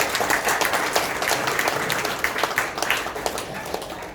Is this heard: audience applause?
yes